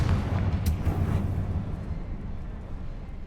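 A Confringo blasting spell from Hogwarts Legacy goes off as one muffled explosive burst near the start, then rumbles and fades into a low, quieter tail.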